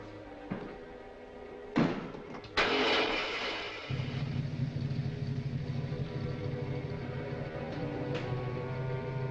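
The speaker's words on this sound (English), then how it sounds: "Start the motor." A car motor cranks and starts after a couple of door slams, then settles into a steady low idle that runs on, fairly quiet and with no talking.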